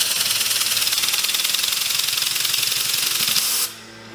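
A compressed-air engine on a small GT mini build, tested at 70 PSI, hisses and chatters in a loud rapid stream that runs steadily for several seconds, then suddenly cuts off to near quiet.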